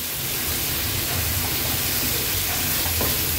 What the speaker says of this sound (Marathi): मी 3 टेबलस्पून बटर घेतलंय हे पण ऍड करूया ह्यात। आता हे व्यवस्थित मिक्स करून घ्यायचंय।